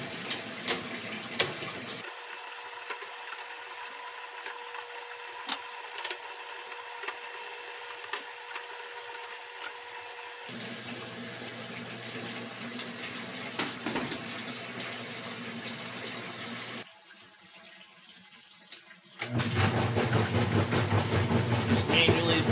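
A GE, Hotpoint or RCA top-load washing machine with a pressure switch fault fills with water as a steady rushing flow, with clicks and handling noises over it and a change in tone partway through.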